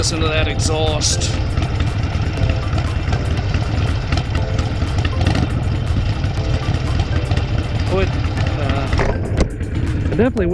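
Motorcycle exhaust rumbling steadily while riding, loud and continuous low drone with engine note shifting through the ride, wind noise over it.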